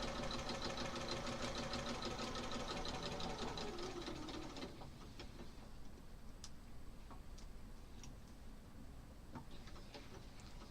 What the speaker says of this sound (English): now I'm just going to stitch